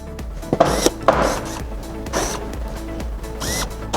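Small screws are driven in to fix a metal part that holds a camera motor in place. The result is close, dry scraping and clicking with a few sharper ticks, repeated over several seconds.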